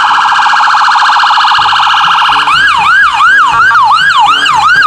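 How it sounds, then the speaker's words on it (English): A toy police car sounds its siren, a loud electronic tone that holds steady at first, then switches to a fast, repeating up-and-down wail that runs continuously and close up. "This is a police car."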